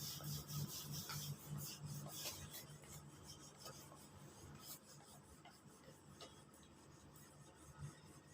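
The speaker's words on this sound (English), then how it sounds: "Now let me rub the board." Chalk or a duster rasps across a classroom board in steady back-and-forth scrubbing strokes, fairly close and moderately loud, with no talk over it.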